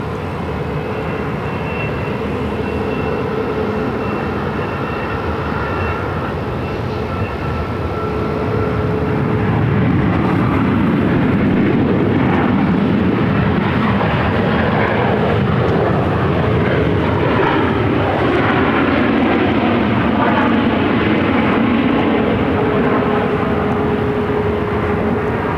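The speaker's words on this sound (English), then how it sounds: "It's Alaska Airlines Flight 515 coming in from Everett on a 737-900 ER." An Alaska Airlines Boeing 737-900ER arriving at Phoenix rumbles in with a loud, broad jet roar that builds midway and stays strong to the end, with a faint whine threaded through.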